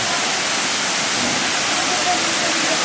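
Steady broadband rush of water from a hot spring waterfall in Krabi, a continuous even roar close by with no break.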